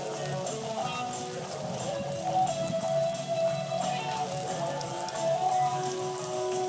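Rain comes down on an outdoor barbecue where chicken curry is cooking, a steady dense patter running throughout, with a faint tonal hum in the background.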